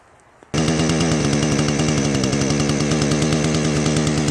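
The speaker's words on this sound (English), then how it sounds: "Good chainsaw." A Remington Outlaw 4620 20-inch gas chainsaw engine roars to life after a brief quiet moment and keeps running loud and steady, with a buzzing, rattling drone.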